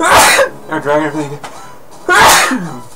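Two loud, close sneezes, one at the start and another near the end, with someone talking briefly between them.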